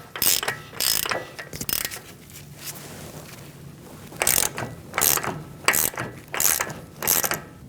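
A ratchet wrench snugs the front axle nut on a 2002-2006 Toyota Camry during a wheel bearing replacement, giving clear bursts of rapid clicking separated by short pauses and heard close up with no talk.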